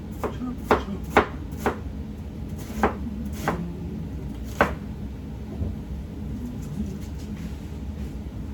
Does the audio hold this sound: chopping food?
yes